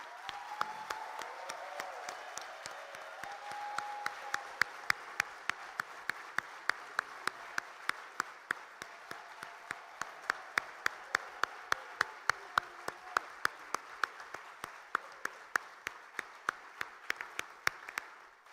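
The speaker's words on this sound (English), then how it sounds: "We can applaud for everyone." A conference audience applauds the candidates at a World Scout Committee session: sparse, evenly spaced individual claps ring out over a quiet room for most of the span, with faint murmuring voices early on.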